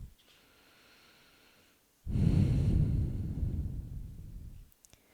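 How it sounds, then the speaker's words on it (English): Slow breathing during a yoga flow, a quiet inhale followed by a long, loud, airy exhale lasting nearly three seconds, close and alone without any talk. "And just take a few breaths here, inhaling and exhaling."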